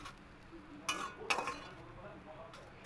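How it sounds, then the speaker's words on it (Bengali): Fried raw banana pieces scraped and lifted from a pan into a pot, two clattering utensil scrapes and clinks standing out over a quiet kitchen background with faint low hum. "এবার আমি এটাকে একটা পাত্রে তুলে নেব।"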